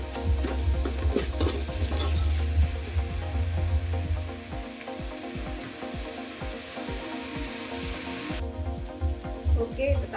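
Chopped bottle gourd and tomato sauté in a pan for a Tamil gourd curry, giving a steady close sizzle with soft scraping stirs and scattered clicks of the spoon throughout.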